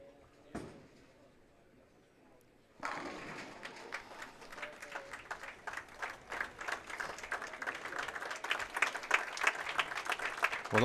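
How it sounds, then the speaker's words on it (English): A bowling alley crowd at a PBA professional bowling match breaks into sustained applause after a sharp impact, clapping steadily and building louder over about eight seconds. "the crowd really appreciates the show that Boog Krol's put on this week"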